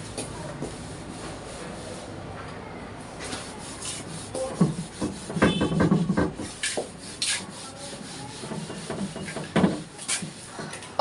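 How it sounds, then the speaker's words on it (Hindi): Chalk or marker writing being rubbed off a classroom board, heard as rough scrubbing strokes that build in the second half, close and moderately loud with no talk. "let me rub this out, उसके बाद बोलती हूँ"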